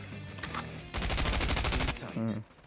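Rapid automatic gunfire in Call of Duty Mobile, a dense sustained burst of shots in the middle, framed by shorter bursts and game effects, with faint talk beneath.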